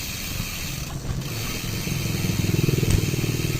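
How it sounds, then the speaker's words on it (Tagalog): A motorcycle engine drones steadily and grows louder, its rapid putter pulsing in a reverberant tunnel, the Kaybiang Tunnel. "Ito motor pala yun."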